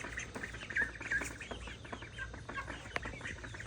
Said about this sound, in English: I've got all of my birds here, my ducks, my chickens in their new coop.